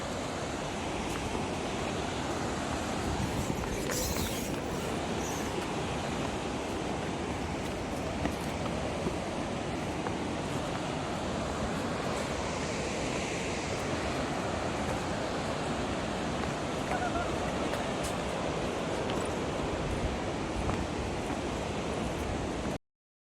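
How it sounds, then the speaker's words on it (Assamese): Shivanasamudra waterfall in Karnataka rushes with a loud, continuous broadband roar that stays even and unbroken throughout. "এইটো শিৱানা সমুদ্ৰ ৱাটাৰফল"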